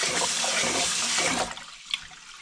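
Water swishes and pours steadily as rice is rinsed in a pot at home, a dense wet rush for about a second and a half before dropping to quiet drips and a small splash.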